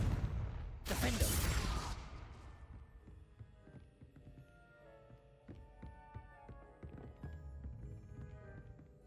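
A sharp burst from a Confringo spell in Hogwarts Legacy opens the scene, followed by a Defendo cast and lighter scattered impact and clinking sounds fading into quieter game ambience.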